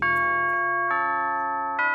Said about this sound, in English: There's a bell. Class is over.